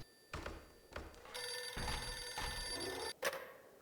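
A telephone rings in a horror video game, a bell-like ring sounding in repeated bursts with brief gaps, loud and close with no talk over it.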